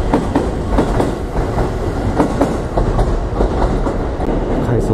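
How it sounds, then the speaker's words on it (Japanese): An out-of-service JR train pulls away from a station after a disruption that stranded the Sunrise sleeper express, its wheels clattering in a steady rhythmic clickety-clack over the rails, loud and continuous with rumbling undertone. "回送列車も出ていきます。"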